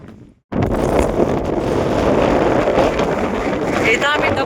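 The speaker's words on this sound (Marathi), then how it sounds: "आता वारा जास्त आहे तरी पण आम्ही थांबतोय." Strong wind gusts across the exposed hillside of Vishramgad fort, a loud rumbling buffet striking the microphone that starts abruptly and roars on continuously, with people talking underneath.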